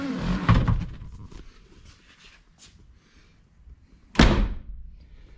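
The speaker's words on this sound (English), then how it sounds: "The top puffs up when I close the door because it's airtight." Ford Galaxie 500 convertible door shutting, first a muffled thunk and then a sharp, loud slam a few seconds later, with quiet rustling in between.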